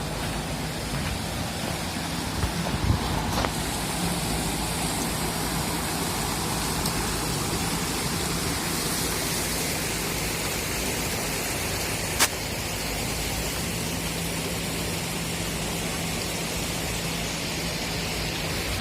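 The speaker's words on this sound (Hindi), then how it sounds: "पानी की आवाज़ भी आप सुन पा रहे होंगे।" A river flowing, heard as a steady broadband rush of water that stays constant and fills the whole stretch, with one faint click partway through.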